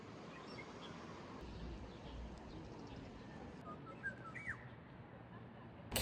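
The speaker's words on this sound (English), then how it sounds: "Can you hear that bird?" A bird chirps and whistles a few times at a distance over quiet outdoor background noise on a summer day in Gongju, Korea.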